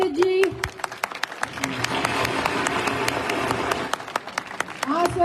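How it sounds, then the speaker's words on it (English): Audience applause for a Hindu priest at an Independence Day celebration in a temple: sustained dense clapping for about five seconds with sharp individual claps, voices and crowd noise mixed in. "Can we have a big round of applause for Pandit ji?"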